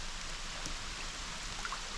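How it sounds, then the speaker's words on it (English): Steady rain falling at an outdoor wildlife sanctuary with alligators and bears, a continuous even patter of raindrops heard alone with no talking, moderately quiet throughout. "That's raindrops."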